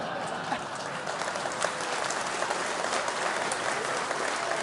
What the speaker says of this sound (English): I think you're always going to get a clap for that.